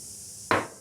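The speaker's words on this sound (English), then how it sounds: "It's going to be a quick clean out with some carb throttle body cleaner, just to make sure it's all degreased." A short, sharp hiss as carb and throttle body cleaner is sprayed into a freshly honed engine cylinder, a single close burst that fades quickly.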